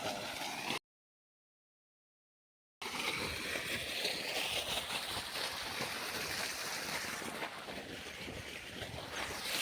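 Water gushes under pressure from a farm well pump pipe: a loud, steady broadband rush of pouring water, close by, broken only by a brief dropout to silence near the start.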